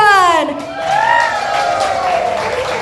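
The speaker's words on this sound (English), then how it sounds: "Can I hear a cheer," An audience at a radio station's Christmas party and award ceremony cheers and whoops together, a loud sustained crowd roar with rising and falling voices.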